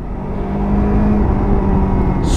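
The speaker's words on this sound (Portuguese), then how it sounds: "Somente eu tirando a mão do acelerador e reduzindo, a moto diminui bastante a velocidade." A motorcycle engine-brakes as the throttle is released while slowing for a speed bump, giving a steady low droning whir and rumble close by, with a faint brief hiss near the end.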